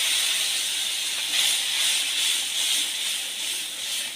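A hot pan of tengra fish curry sizzles after a splash of water, giving a loud, steady steamy hiss that swells slightly and keeps going.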